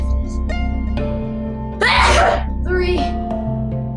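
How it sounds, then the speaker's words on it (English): A single loud, wet human sneeze bursts out near the middle, set against a steady background hum and faint tonal sounds around it. "Maybe I might sneeze more."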